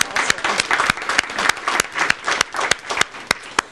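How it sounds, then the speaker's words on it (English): Audience applause at a community partnership event, steady clapping from a crowd in a room with sharp individual claps standing out, sustained for a few seconds with no talking. "I want to give them a round of applause also"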